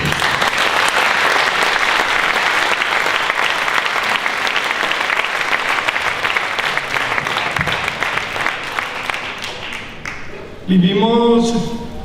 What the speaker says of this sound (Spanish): Recibámosle con el aplauso que merece.